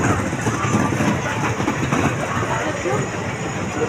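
A small fairground ride train runs at an outdoor folk expo held at a stadium after rain, its steady engine rumble and rolling rattle continuous and fairly loud, with crowd chatter mixed in throughout.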